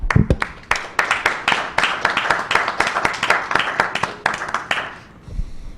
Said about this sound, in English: I want a round of applause for you all.